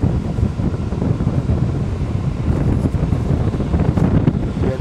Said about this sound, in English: This is the blower motor.